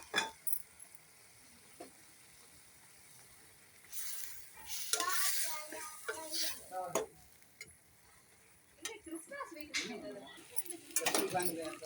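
Ginger garlic paste hitting a hot pan for a prawn gravy, soft sizzling with scattered bursts of spoon stirring and scraping against the pan, fairly quiet and intermittent.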